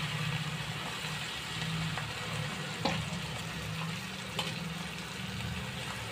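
Coconut stuffing masala frying in oil for stuffed eggplant, a steady close sizzle broken by a couple of sharp utensil taps against the pan, with no voices.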